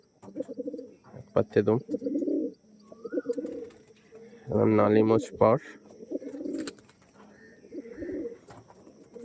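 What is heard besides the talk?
pigeons cooing, Andhra, Arshad and Kalanka breeds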